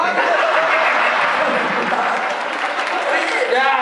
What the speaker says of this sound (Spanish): Por favor, un aplauso para, para Margarito.